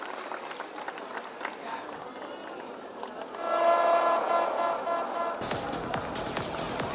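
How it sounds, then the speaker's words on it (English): Parents in a school hall applaud prize winners at an annual day celebration, scattered clapping that swells into a fuller, louder round of applause for the last few seconds. "A big round of applause, parents, to all the prize winners."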